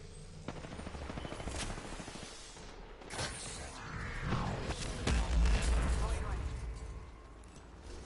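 Gunfire and blasts in a video game firefight mixed with game voice callouts and music, with heavy booming impacts building toward the middle and sharp shots scattered throughout.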